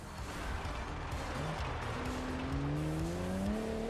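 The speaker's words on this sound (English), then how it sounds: "Handbrake turn." A car in an off-road racing video game makes a handbrake turn, engine droning loudly as tires squeal in a rising, drawn-out whine over a few seconds.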